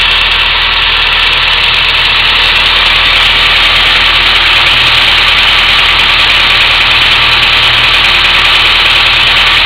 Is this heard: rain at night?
no